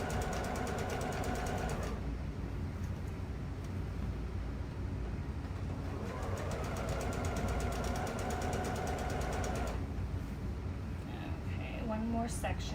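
A sewing machine stitches track pants fabric in a continuous close whirring hum, with brief pauses and restarts as the cloth feeds through. A voice talks quietly over it.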